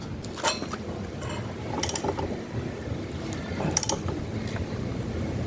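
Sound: tightening motorcycle axle nut on Honda Beat

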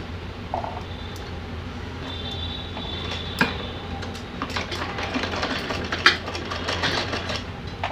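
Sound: sewing machine stitching doll's cap

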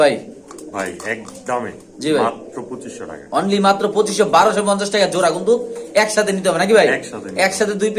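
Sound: pigeons cooing

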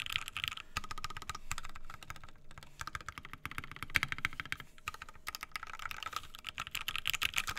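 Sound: typing on mechanical keyboard, FR4 plate, Alpaca switches

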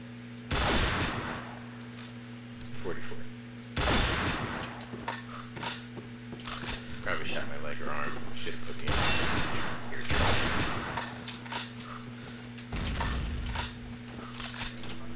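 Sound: Ruger Gunsite Scout Rifle shots in video game Combat Arms

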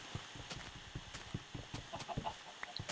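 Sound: chickens clucking in the video game Minecraft

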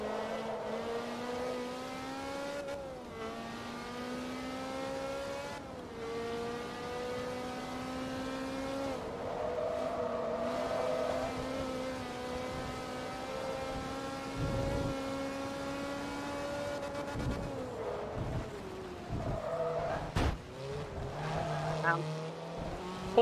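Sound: Ferrari F430 Challenge racing in video game Forza Motorsport 2

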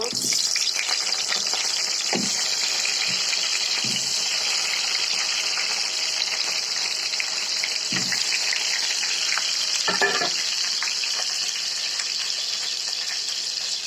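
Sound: potatoes frying in hot oil

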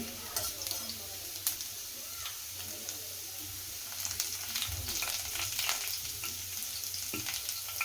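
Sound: frying ingredients in a pan on medium flame

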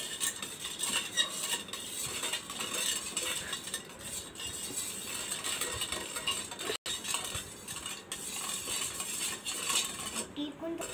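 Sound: stirring lemon juice with a spoon

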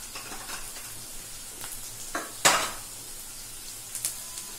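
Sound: turmeric and curry leaf tempering sizzling in a pan

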